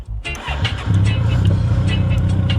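A 2006 Yamaha FJR motorcycle with about 4,500 miles idles, then its engine note rises loud and near as it pulls away.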